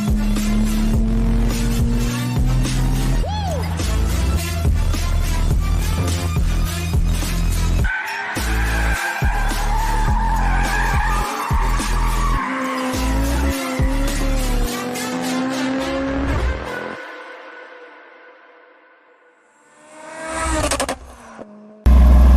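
A car drifting, its tires squealing and skidding loudly over a roaring, revving engine, with long sliding screeches, a few sharp cut-offs and a late surge before the sound ends in a brief burst.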